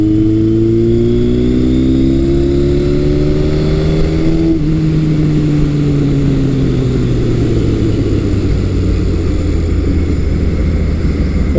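A 1978 Kawasaki KZ1000 LTD motorcycle engine accelerates on the road, its loud rising roar climbing through a gear, dipping at a shift, then pulling steadily again under constant wind noise.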